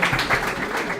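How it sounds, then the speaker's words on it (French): An audience at a school competition applauds a student named Ramazani, a steady wash of clapping filling the short moment with some voices mixed in. "On applaudit pour Ramazani."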